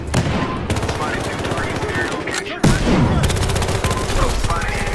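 Rapid K10 submachine gun fire in Battlefield Hardline, dense loud bursts of automatic shots close up, with excited players talking over the shooting.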